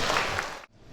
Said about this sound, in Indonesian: Bolehlah kita berikan tepuk tangan yang luar biasa